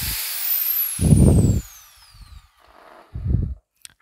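An electric drill fitted with a 10 microfarad capacitor whirs in two short bursts separated by a pause, loud and close, with a faint high whine trailing off in the background.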